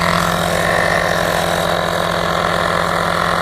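An Auxito A501 rechargeable tire inflator running continuously, producing a loud, close, steady buzzing engine-like drone with a rapid pulsing vibration throughout.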